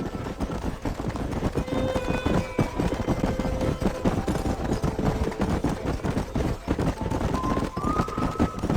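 Horses gallop in the Red Dead Redemption western video game, rapid clip-clop hoofbeats pounding continuously and close, with tonal game sounds and faint voices mixed in.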